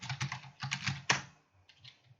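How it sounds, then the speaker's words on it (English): A computer keyboard clatters in a few quick clusters of keystrokes as a network command is typed, close and fairly quiet, with a sharper final key press before a short fainter tap. "if we type no shutdown"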